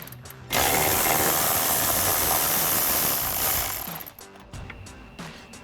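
A ratcheting power tool spins off the last mounting nut of a towing mirror on a 2020-2024 Silverado or Sierra 2500, one loud, close, rapid mechanical rattle lasting several seconds, followed by a few quieter clicks.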